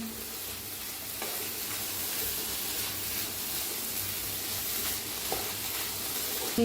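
Spicy snack mixture roasting in a pan on the stove gives a steady, even sizzle and hiss throughout, with a couple of faint stirring knocks near the spoon and no talking.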